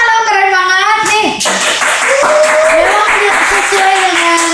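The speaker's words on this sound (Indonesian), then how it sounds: "tepuk tangan dong" Talk show audience claps briefly after a speaker on youth collaboration, a short burst of applause mixed with overlapping voices and tonal sounds.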